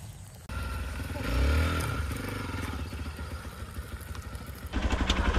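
A Hero XPulse 200 4V Pro motorcycle rides off-road, its single-cylinder engine droning steadily with rising revs, rattling and scraping from rough terrain, and a louder surge near the end after a brief quiet start.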